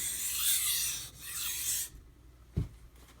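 A Karaku Aogami bunka knife, 165 mm, has its burr removed on a sharpening stone: two long gritty rubbing strokes, then a pause and a single dull knock, close and without talk.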